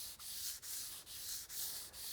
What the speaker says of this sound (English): as we're sanding, back and forth,